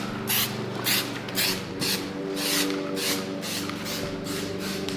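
Rhythmic bursts of aerosol or spray adhesive hiss during a suede wrap of a car interior, repeating about every half second over a steady low background hum.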